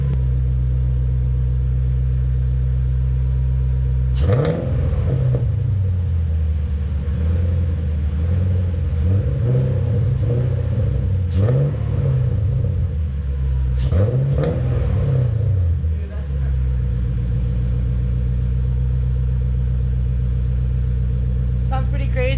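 A BMW E30 with a swapped M62 V8 engine cranks and roars to life, then settles into a deep, loud, rumbling idle with a few throaty revs, close to the listener.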